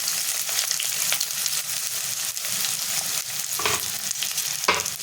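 Crushed ginger, garlic, green chili and onion fry in hot oil in a pan for dal palak, a dense, continuous close sizzle with occasional louder spits and a couple of stirring scrapes, and no talking.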